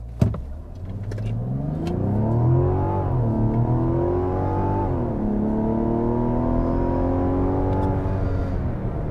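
A 2024 Mazda CX-90 Turbo S SUV accelerates hard through a 0-60 run, its engine note climbing in a loud, steady rising drone with a brief dip at a gear change before pulling upward again, heard from inside the cabin.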